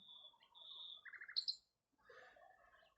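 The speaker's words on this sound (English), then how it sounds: "That is a nightingale, a male nightingale singing its heart out in Thanet." A male nightingale sings in Thanet, a close, clear run of varied whistles, rapid trills and sharp chirps, with a brief pause before more notes follow.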